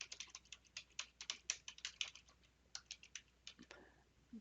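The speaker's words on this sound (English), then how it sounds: "I'm typing it into the chat box there" Typing on a computer keyboard indoors, a quick, irregular patter of close, crisp key clicks with short pauses, quiet and alone.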